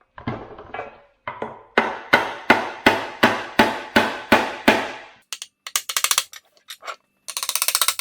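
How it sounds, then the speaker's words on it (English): Metal hammering on a Toyota Tacoma 8-inch clamshell front differential cover: a string of sharp, ringing blows in a steady rhythm, followed by lighter, quicker taps and a short burst of rapid strikes, close by. "This diff actually does have spots to hammer on."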